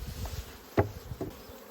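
Honey bees buzz densely around an opened hive box during a honey super inspection, a close, continuous drone with a few soft knocks of equipment.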